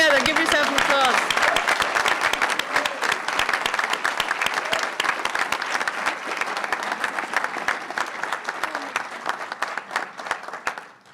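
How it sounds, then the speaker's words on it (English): Audience applause at a white coat ceremony for a Doctor of Physical Therapy class, with dense sustained clapping from a large crowd that runs for about eleven seconds and slowly tapers off. "So put your hands together, give yourself an applause."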